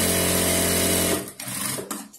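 A sewing machine hums loudly as it stitches a silk pattu pavadai, running close and steady. It stops after about a second, leaving softer handling noises and a faint click.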